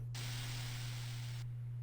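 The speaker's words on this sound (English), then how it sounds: "So there's some random white noise in the song." Random white noise in a song, a faint, flat hiss that switches on abruptly, holds steady for about a second and a half, then cuts off, over a constant low hum.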